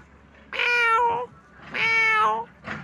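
A cat meows twice, long drawn-out cries close by, with a short start of a third at the end.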